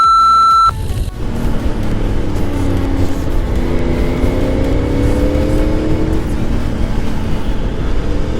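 A car approaching on a winding mountain road beside a lake, a steady engine and tyre roar building close by after a short electronic beep, without voices.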